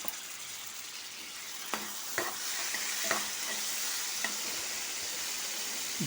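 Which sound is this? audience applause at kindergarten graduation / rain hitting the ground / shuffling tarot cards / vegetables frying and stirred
vegetables frying and stirred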